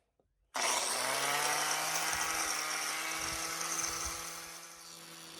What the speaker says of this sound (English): just using the grinder to take the tops off the welds, the crowns